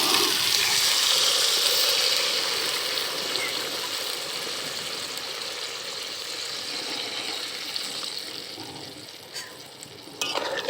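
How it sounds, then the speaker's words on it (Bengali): Broth goes into a pan of spiced fried cauliflower for a Bengali cauliflower curry, giving a steady hissing sizzle that slowly fades, with a few soft utensil clinks near the end. "এবার ঝোল দিয়ে দেব।"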